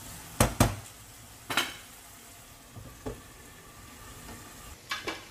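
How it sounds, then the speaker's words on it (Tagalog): Egg and ground pork frying in a pan for a Filipino eggplant omelette give a soft continuous sizzle, broken by a few sharp metallic clacks and scrapes from a utensil against the pan. "mag-start na tayong iprito"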